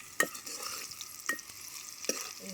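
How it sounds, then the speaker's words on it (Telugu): Onions frying in a pan for a village-style chicken curry, with a few sharp stirring scrapes spaced about a second apart over a low, steady sizzle. "ఉల్లిగడ్డ వేగింది నాయన ఉల్లిగడ్డ వేగింది"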